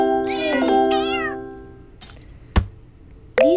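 Cartoonish cat meows from a cat condo video game, a couple of bright, sliding mews up front followed by short chimes and clicks from the game, close and clear with no talk.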